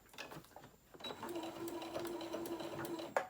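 A sewing machine stitches a tote bag, giving a fairly quiet, steady mechanical whir with a faint rattle for a couple of seconds after a brief pause, with soft handling sounds nearby.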